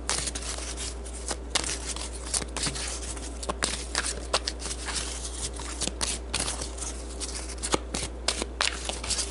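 Tarot advice cards are shuffled by hand in repeated soft riffling bursts and flicks, close and fairly quiet over a low steady hum, with no talking.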